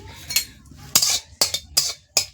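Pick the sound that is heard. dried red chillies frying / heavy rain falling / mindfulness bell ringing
dried red chillies frying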